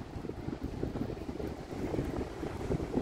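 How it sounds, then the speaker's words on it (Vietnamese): Ocean surf near a New Hampshire lighthouse, a low rumbling wash of waves blended with gusty wind buffeting the microphone, steady and moderately loud with no voices. "Mọi người nghe tiếng sóng không?"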